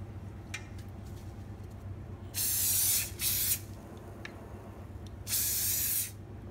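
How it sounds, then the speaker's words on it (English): Cooking oil spray hisses in two bursts of about a second each, loud and close, with soft clicks and a low steady hum in between. "we're going to put a bit of oil spray on it."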